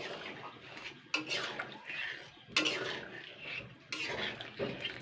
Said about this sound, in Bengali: খুন্তি দিয়ে দিয়ে জলের মধ্যে দিয়ে গুলে নিতে হবে।